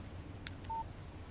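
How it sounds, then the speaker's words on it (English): A phone text message alert in the Alan Wake video game: a single short electronic beep, quiet and alone, preceded by a couple of faint clicks. "Text message from Barry"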